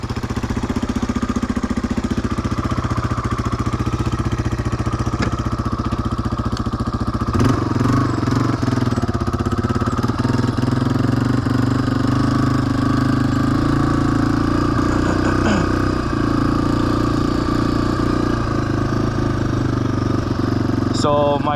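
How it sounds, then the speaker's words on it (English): A dirt bike engine idles while warming up outdoors in an Oregon forest, a steady, loud, unbroken mechanical drone lasting the whole stretch. "I'll let the bike warm up for a bit"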